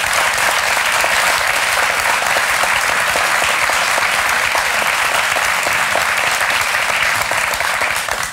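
A studio audience in a 2009 German television interview programme applauds steadily and loudly as three men walk into the studio, with dense continuous clapping throughout and no pause.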